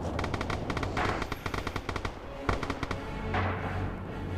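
Dense World War II gunfire from the video game Red Orchestra 2: rapid automatic bursts and overlapping shots crackle loudly and continuously, with heavier booming reports mixed in and a low rumble underneath.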